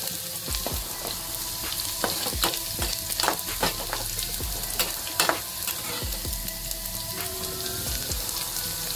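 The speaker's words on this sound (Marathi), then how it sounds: "मिरची आणि लसूण आणि जिरा टाकलेला आहे, आणि कढीपत्ता टाकलेला आहे। पूर्ण ब्राऊन होईपर्यंत आपल्याला फ्राय करायचंय।" Chilli, garlic, cumin and curry leaves frying in hot oil for aloo paratha, a continuous close sizzle with bursts of crackling spatter and occasional scraping stirs, with no talking.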